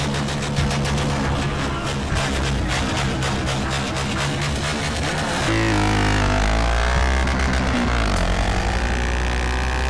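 A Twister 300F motorcycle in GTA San Andreas revs steadily with a buzzing, pulsing engine note, then shifts into a deeper, rising drone partway through. No one speaks.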